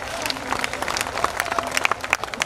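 Lively crowd applause at a Hindi poetry gathering (kavi sammelan) at the Udaipur municipal Diwali fair, with dense clapping and scattered sharp individual claps and whistles, fairly close and continuous.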